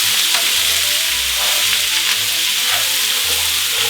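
Onions, carrots and filet mignon sautéing in a pot, a loud, dense, unbroken sizzle heard close up, with faint stirring and no speech.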